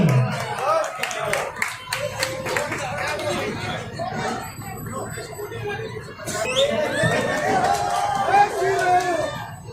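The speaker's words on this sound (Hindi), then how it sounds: "देखो आवाज में मैं चाहूंगा एक बार मिलकर के तालियां बजाएंगे अमीशा जी के लिए" A crowd at a Haryana assembly election rally claps for a visiting actress. Scattered claps mix with loud chatter and crowd murmur, and people talk throughout.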